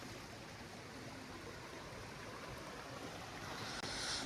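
Stream water flowing on a bamboo trek in Meghalaya, a steady faint rush with reduced dry-season flow, continuous and even without any talking.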